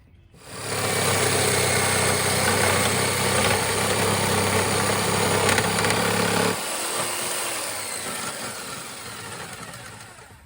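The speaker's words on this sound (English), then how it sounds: "So I have my Black & Decker jigsaw out, and I'm going to cut this." Black & Decker jigsaw cutting repurposed wood for a garden bed, a loud close steady motor buzz lasting about six seconds, then easing to a lower running drone before stopping.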